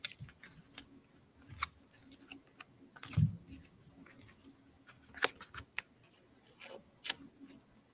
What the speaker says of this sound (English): I hate these circle cards, trying to shuffle them.